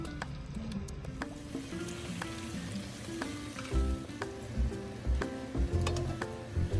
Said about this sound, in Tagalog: Gamit ang same na mantika, isusutay natin ang 2 piraso ng white onion.